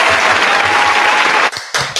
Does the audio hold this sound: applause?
yes